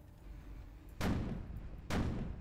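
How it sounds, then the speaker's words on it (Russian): A small cruiser's cannon in the Sprocket video game fires two sharp booming shots about a second apart, each a loud broadband blast with a short decaying tail. "У него работает пушка."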